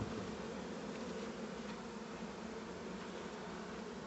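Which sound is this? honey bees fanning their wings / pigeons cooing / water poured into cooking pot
honey bees fanning their wings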